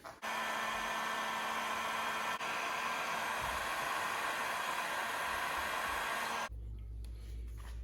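A heat gun blows steadily and loudly for about six seconds while heating wire connections during LED turn signal installation on a Suzuki DRZ400SM, then cuts off abruptly, leaving a low rumble.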